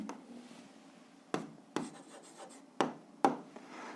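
A pen scratches across paper as an algebra answer is written out by hand, a soft continuous rubbing punctuated by four or five sharper strokes or taps, close and quiet with no talk.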